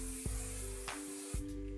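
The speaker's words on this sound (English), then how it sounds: "I'm gonna just give her a last spray of hairspray" Goldwell Big Finish volumizing hairspray sprays onto thick hair in short bursts, a close, soft hissing spray repeated several times over a faint steady hum.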